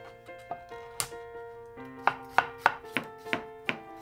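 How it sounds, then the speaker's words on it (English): Stacked cabbage leaves are cut into 2-inch strips with a knife on a board, a close series of crisp, sharp chops coming in a quickening, fairly regular rhythm. "Stack the leaves on top of each other and cut into 2-inch strips."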